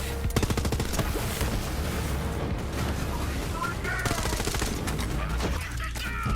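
Assault rifle fire in the video game Borderlands 3, with rapid bursts of automatic gunshots and booms repeating steadily and loudly, mixed with game effects and some talking.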